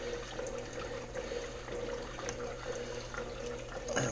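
Water from a brackish aquarium runs through a larger siphon hose into a bucket, a continuous close trickling and gurgling flow with a slight swell at the end.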